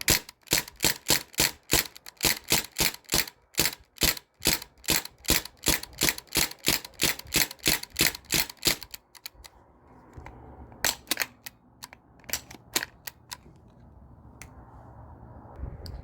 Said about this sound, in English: I'm just firing the rest of the gas out of this airline and stuff.